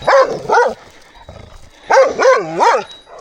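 A dog barks nearby, two quick barks, a pause with faint rustling, then three more loud barks in a row.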